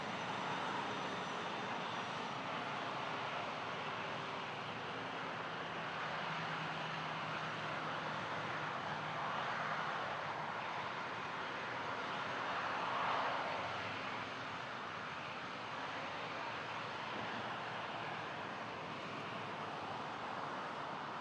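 An Embraer E195 airliner at Toronto Pearson airport, a steady broadband engine roar from a distance that holds for the whole stretch and swells slightly near the middle.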